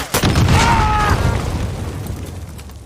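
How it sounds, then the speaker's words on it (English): A loud, close explosion in Call of Duty Warzone, a sharp blast that rolls into a long, rumbling decay, with a faint tonal whine as it fades. "Doesn't even look at the explosion."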